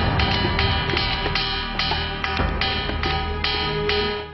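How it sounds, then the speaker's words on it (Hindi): Stones on a hill that are said to sing or ring when struck give a rapid series of sharp, ringing knocks, repeated about twice a second over a steady resonant background. "जी हां ये पत्थरों की आवाज है।"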